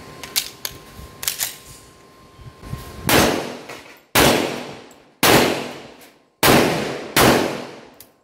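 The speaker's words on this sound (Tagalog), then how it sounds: "so firing tayo guys, firing" Several loud gunshots from a firearm being broken in with full metal jacket rounds ring out, evenly spaced, after a stretch of quieter clicks and handling noises at the start.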